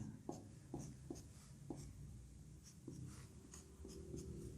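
Pen or marker writing true and false values into a table column during a math lesson on sets and functions, with repeated short scratchy strokes at a steady pace, fairly quiet and heard alone.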